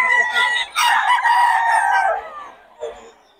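Eleven-month-old gamecock stags crow loudly and close by at a Bocaue market in the Philippines, one drawn-out crow followed by a brief cluck as the sound fades away.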